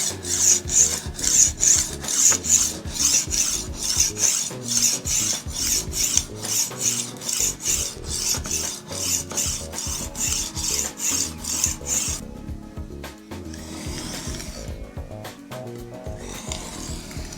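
Rhythmic rasping strokes of a Nakiri knife blade being sharpened on a diamond stone, steady back-and-forth passes close up, loud and continuous, easing into lighter, sparser scraping near the end.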